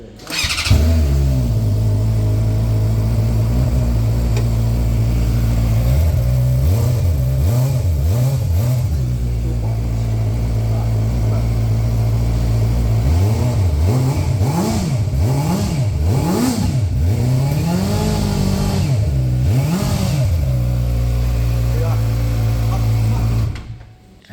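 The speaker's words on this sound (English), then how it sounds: "I had the opportunity to listen to the exhaust." A ZXMOTO 500RR motorcycle's exhaust idles with a steady, loud drone, then is blipped through a series of quick throttle revs that rise and fall repeatedly before settling back to idle.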